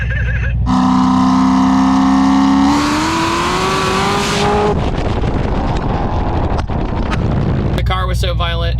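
An 890-horsepower Corvette ZR1 screams at high revs through gear changes, loud and close with heavy wind rush, then the engine note drops away into rushing noise.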